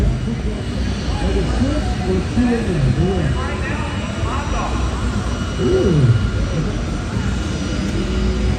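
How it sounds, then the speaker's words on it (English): Jet dragsters roar at Rockingham Dragway during an NMRA/NMCA event, a loud, sustained broadband rumble with whining tones, heard under an announcer's amplified voice. "Ladies and gentlemen, the jets are coming."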